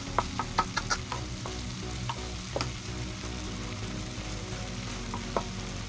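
Fish and seasoning being stirred in a pan for ginataang isda, with a steady sizzle and intermittent scrapes and clicks of the spoon, fairly close and without talk.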